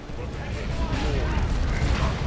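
Units blow up in the strategy video game Dawn of War 2, a rumbling mix of deep booms and battle noise, with a voice talking over it.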